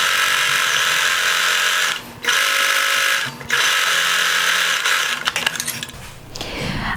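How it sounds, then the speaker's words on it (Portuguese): A sewing machine runs bursts of a reinforcement seam in fine fabric such as chiffon or crepe: a steady high whirring hum, stopping briefly twice, then more uneven clicking stitches toward the end, close and without talk. "Agora eu vou fazer a segunda costura, que é uma costura de reforço"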